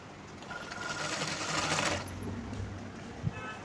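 A sewing machine stitches a blouse with a steady whirring run that swells in the middle and then eases, ending with a small knock, close by and without talk.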